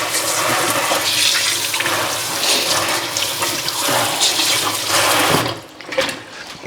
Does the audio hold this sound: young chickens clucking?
no